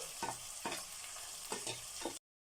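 Tomato and ginger-garlic paste frying in a pan for uggani, with a soft, quiet sizzle and a few distinct scraping stirs, close by and without talk, cutting off abruptly into silence.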